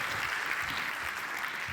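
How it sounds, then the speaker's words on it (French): Audience applause at a live stage show, a steady wash of clapping filling the short stretch at moderate level. "vous pouvez l'applaudir à nouveau, oui, s'il vous plaît"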